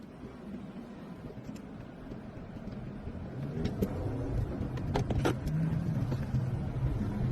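A Ford Explorer drives nearby with a low, rumbling road and engine noise that grows slightly louder, a few faint clicks and rattles over it, and no talking.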